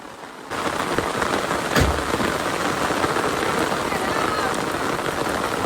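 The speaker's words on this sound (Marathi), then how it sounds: "खूप पाऊस पडतोय" Heavy monsoon rain pours down steadily and loudly on a risky roadside, a dense continuous hiss with one sharp thud near the start.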